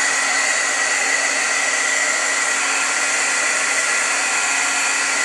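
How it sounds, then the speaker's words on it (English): A Milwaukee 1400 heat gun blows hot air to dry paint, a loud, steady, unbroken roaring whoosh held close throughout. "the heat gun that I'm using is the Milwaukee 1400"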